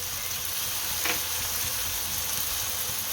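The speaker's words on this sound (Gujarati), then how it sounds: "જીરું નાખશું" Cumin seeds crackle in hot oil for sev usal, a dense, even sizzle filling the whole stretch close up, with a brief brighter pop partway through.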